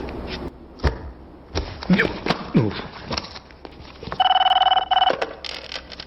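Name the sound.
telephone ringing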